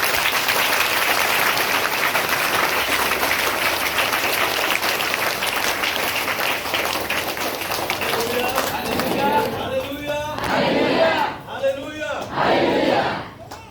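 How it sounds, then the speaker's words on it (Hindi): A congregation at a Christian gospel gathering in Ayodhya claps loudly and continuously for God, a dense roar of hands with some cheering, before it fades and voices speak over the tail end. "सब लोग एक बार जोरदार ताली बजाएंगे परमेश्वर के लिए"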